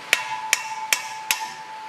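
A big hammer strikes an adjustable wrench set on the fan nut of a Dodge Dakota four times at an even pace. The sharp metallic clanks ring out close and alone, each followed by a brief ring.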